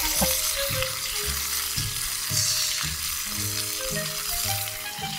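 Food seasoned with spice grilling on a high-flame camping stove, a continuous loud sizzle running alone, with a low rhythmic pulse and faint tonal lines beneath.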